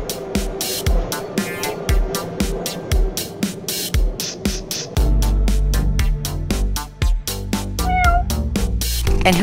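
Cat meowing in an outdoor spot near the United States Capitol, several clear meows rising over a steady rhythmic electronic music bed, close and fairly loud.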